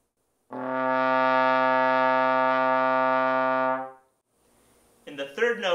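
A trombone sustains a single steady C, rich in harmonics, for about three seconds before fading out, followed by a voice that starts talking.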